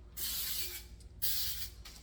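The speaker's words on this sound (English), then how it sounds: "We're gonna spray it with baking spray that has flour in it." Baking spray containing flour sprayed onto a small muffin tin in a home kitchen: two short bursts of hissing aerosol, close and clear, with a brief pause between them.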